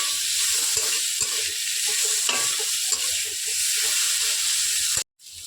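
Fried potatoes being stirred in a hot pan for a vegetarian pea-lentil fritter curry, with a steady close sizzle and hiss under repeated spatula scrapes, ending in a brief silent break.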